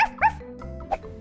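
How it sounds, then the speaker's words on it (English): A cartoon dog barks in a children's storybook tale, a few short yipping barks spaced apart, fairly close and clear with no talk over them. "their babysitter is a dog"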